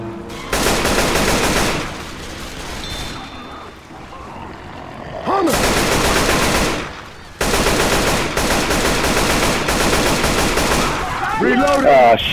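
An M60 machine gun fires in Left 4 Dead 2 on the Cold Stream Memorial Bridge level: loud, sustained automatic bursts with a short lull between them, set within the game's noisy mix.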